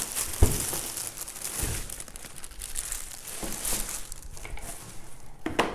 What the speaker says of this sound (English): Let me just get this out of the plastic bag.